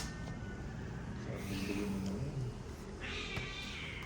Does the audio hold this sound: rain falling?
no